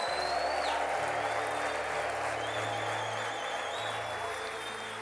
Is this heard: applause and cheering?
yes